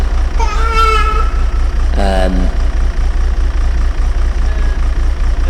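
A heavy engine idles in the background with a steady low pulsing throb, loud and continuous beneath a brief voice.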